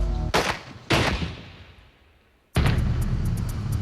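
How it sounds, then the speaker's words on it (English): Two sharp handgun shots ring out from a bodyguard's pistol, each a loud crack spaced about half a second apart and decaying into a fading tail. A third, louder bang or impact follows a moment later. "bodyguard Basil Stevens fired his gun twice at Hoskins"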